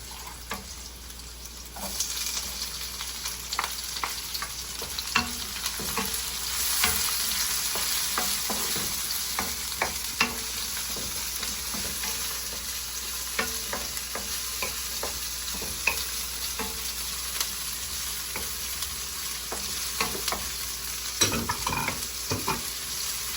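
Onions sautéing in a pan for a Filipino pechay and sardine dish, a steady close sizzle with frequent scraping stirs and clicks of a utensil throughout, with no talking.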